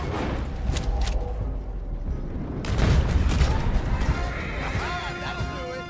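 Continuous gunfire in the video game Red Dead Redemption 2 during a chase on a road, scattered shots and crashes over a steady rumbling bed, moderately loud throughout.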